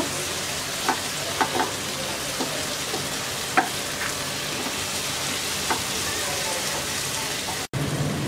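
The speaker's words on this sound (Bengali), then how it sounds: "টমেটোটাকে হালকা নরম হওয়া পর্যন্ত ভেজে নেব।" Tomatoes frying in a pan with chopped green chilies for an egg masala curry, a dense, even sizzle with occasional light spatula scrapes and taps, close and fairly loud.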